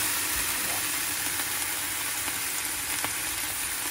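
Celery, carrots and chicken stir-fry in a pan with ginger, giving a steady, close sizzle that holds evenly throughout with faint stirring clatter and no pauses.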